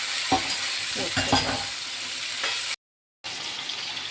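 Vegetables frying in a pan, a steady bright sizzle with several scraping stirs early on, then a brief cut to silence before the sizzle resumes.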